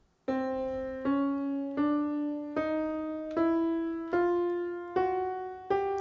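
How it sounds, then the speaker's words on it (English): Eight distinct pitched notes played one after another at an even pace, each rising a half step, clear and close with no voices. "an 8-note chromatic scale will sound like this"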